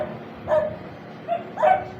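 Dogs bark and yip near a shallow beach at low tide, a few short barks at moderate distance with quiet gaps between them.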